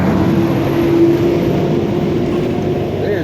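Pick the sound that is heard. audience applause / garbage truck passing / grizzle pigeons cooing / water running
garbage truck passing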